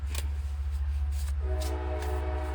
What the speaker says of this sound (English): that's the train that takes you into Boston